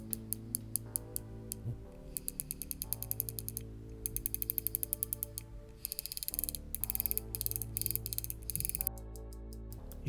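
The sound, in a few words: TT Artisan 50mm f/1.2 lens aperture ring clicking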